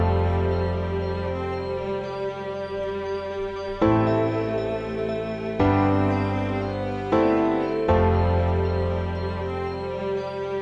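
Layered sustained Kontakt strings with bright bell tones over a steady piano beat, the full arrangement swelling at several points, with no voices.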